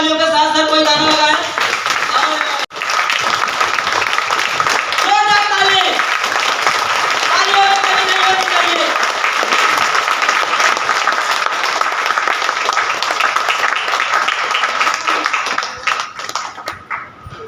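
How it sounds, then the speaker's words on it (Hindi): Audience applause fills a business motivational meeting at Bombay Market in Umarvada, a loud, sustained crowd clapping under singing and voices, with a dog-like yelp briefly audible in the mix. "तो हम चाहेंगे जोरदार तालियों के साथ"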